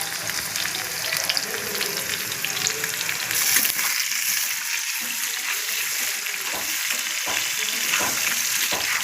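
Potato pieces seasoned with a little turmeric and salt fry in hot oil in a pan for a potol kurma, giving a steady close sizzle with occasional stirring clicks.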